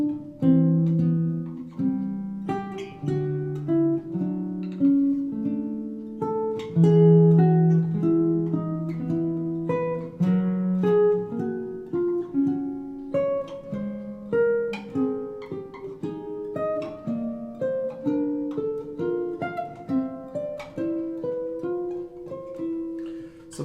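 Guitar works through a symmetrical cycle of parallel harmony, moving chord shapes and plucked intervals stepping steadily up and around, played clean and close for over twenty seconds with no voices.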